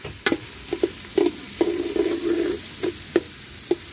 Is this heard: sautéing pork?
yes